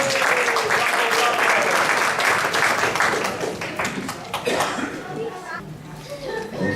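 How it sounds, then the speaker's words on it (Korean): Enthusiastic applause from an audience at a Korean school showcase, many hands clapping loudly at first and then thinning out, with some chatter underneath. "Let's have one more round of applause."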